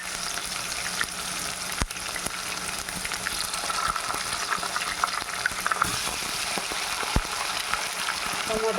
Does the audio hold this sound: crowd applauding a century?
no